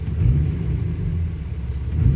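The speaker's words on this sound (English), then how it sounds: "I got the truck started and running. It's totally up to temperature." A Cummins diesel truck engine idles at operating temperature with a steady low rumble and even, throbbing pulses, close by and alone.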